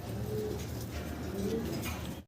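German Beauty Homer pigeons coo in low, throaty, rolling calls that overlap continuously against a dense loft background, close and fairly loud throughout.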